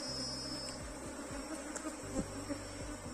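A honey bee swarm buzzes steadily around a hive frame being handled, a dense, close insect drone that holds throughout with brief louder swells.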